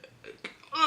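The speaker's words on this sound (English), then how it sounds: "sorry, I got the burps" A man lets out a short burp, faint and muffled, lasting under a second and followed by a brief rougher swell at the end, with no talking around it.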